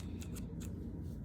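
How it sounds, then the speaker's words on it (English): Scissors snip through yarn loops on a handmade pompom, three or four quick, faint crisp cuts over a low steady background hum. "So you just start snipping all of them with your scissors."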